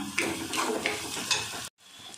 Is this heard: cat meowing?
no